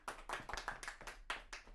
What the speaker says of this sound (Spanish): Aplauso por eso.